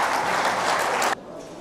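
Audience applause at a poetry gathering, loud, dense clapping that fills the room for about a second before cutting off sharply to a quieter murmur of continued clapping.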